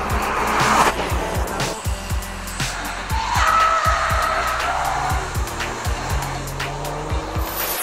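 An Audi with a 2.0 TFSI turbocharged four-cylinder and all-wheel drive accelerates hard, its engine rising and falling through repeated gear changes, loud and close, with tyre squeal mixed in.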